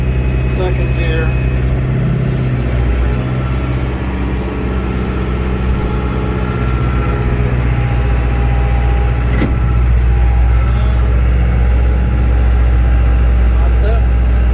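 A New Holland tractor pulling a three-bottom plow through sod hay field in second gear, its engine a loud, steady low drone close by, with a voice talking over it.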